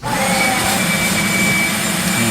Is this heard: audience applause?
no